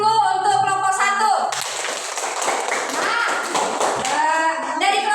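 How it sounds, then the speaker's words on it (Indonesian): Classroom applause for a student group after a presentation, a burst of many hands clapping in a room, with children's voices and tones before and after. "tepuk tangan dulu untuk kelompok 1"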